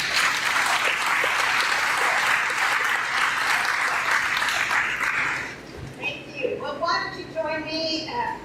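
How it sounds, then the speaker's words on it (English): A school audience at a Grandparents Day high school program applauds the head of school, with several seconds of full, even clapping that fades out, followed by a voice speaking alone. "Would you please give her a round of applause?"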